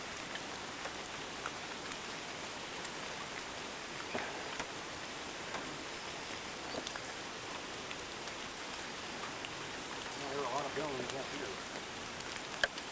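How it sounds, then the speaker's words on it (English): Steady drizzling rain on a mountaintop rainforest in Kenya, a soft, even patter of fine drops continuing throughout, with a slight swell near the end. "it's been raining constantly. So, just a real nice drizzle rain"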